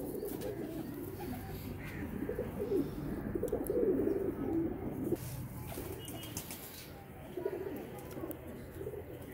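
Golden pigeons coo steadily in a keeper's loft, a continuous low burbling of several birds with occasional wing flutters and faint chirps, close by and unbroken, with a brief faint voice in the background.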